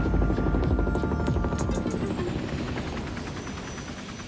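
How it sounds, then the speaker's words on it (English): Helicopter engine and rotor noise during a landing aboard the USS Arlington, a steady close roar with rhythmic blade chop that gradually eases in loudness. "I was on a helicopter at like 7 a.m. and now I've landed on the USS Arlington"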